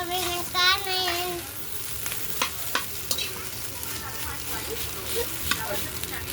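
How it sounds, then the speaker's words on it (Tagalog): Rice frying and being stirred in a pan for Filipino sinangag, a steady close sizzle with scraping spatula strokes, and a voice briefly audible at the start. "Magsasangag po kami ng kanin"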